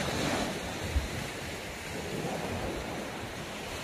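Open-sea surf washes onto a beach in Shinas, Oman, in the morning: a steady, continuous roar of waves mixed with wind buffeting, with no voices.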